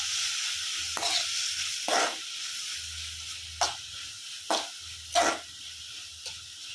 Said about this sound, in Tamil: தக்காளியும் சேர்த்துட்டு கொஞ்சம் நல்லா வதக்கிக்கோங்க